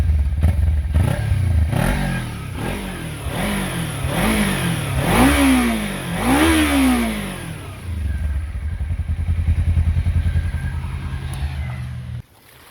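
A Kawasaki Ninja 300 motorcycle engine revs repeatedly while riding, its pitch climbing and dropping through a series of gear changes, loud and close over steady wind rush, then settling into a sustained drone.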